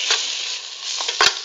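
Tomato dropped into a hot frying pan during home Kerala-style cooking, a steady close sizzle with a brief clatter of stirring near the end.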